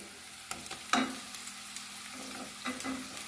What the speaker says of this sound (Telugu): ఇప్పుడు పన్నీర్ ముక్కలు వేసుకోవాలి